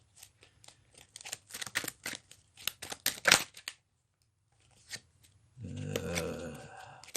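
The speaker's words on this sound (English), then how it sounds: "cold fingers trying to shuffle." Playing cards riffle and snap in quick, uneven bursts close by during a tabletop wargame, followed by a soft rustling shuffle; quiet overall with no talking.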